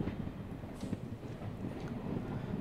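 A passenger train hauled by a WDM 3A diesel locomotive approaches, heard as a low steady rumble with faint rail clatter and some wind noise on the microphone.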